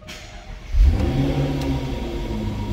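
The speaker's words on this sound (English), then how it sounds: "let's do an engine startup" A 2012 Jaguar XKR coupe's engine cranks and fires with a push-button start, a sudden loud catch near the start followed by a steady, rumbling idle that holds close and clear, with no talking.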